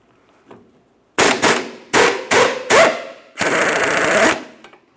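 On a Honda Accord, a bolt is driven out of the front control arm in a series of loud, close, rapid mechanical bursts, likely from an impact tool, ending in one longer rattling burst.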